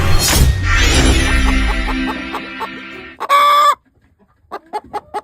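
Chickens cluck close by in a burst of rapid calls and crowing, then short separate clucks follow after a brief pause.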